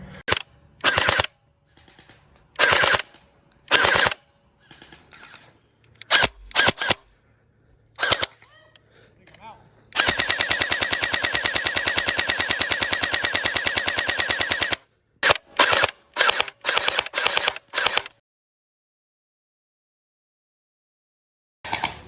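Toy gel blaster fires loud rapid bursts, first in short clusters, then one long sustained volley of about five seconds, then several quick bursts before silence.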